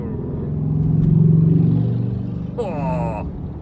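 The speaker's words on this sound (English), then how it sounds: "it's a motorbike. I heard a grumble. It's like a Harley Davidson or something coming." A motorbike, said to resemble a Harley-Davidson, gives a loud, steady low engine rumble that swells and fades as it approaches and passes, with a brief higher tonal whine near the end.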